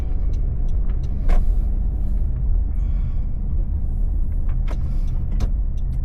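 Steady low engine rumble and road noise from inside a car on the move, a constant drone with a few faint clicks and thumps, no talking.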